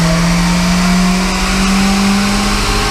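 A turbocharged Ford Transit is floored in third gear on a dyno, a loud, sustained engine roar with a rising steady tone held over the whole stretch.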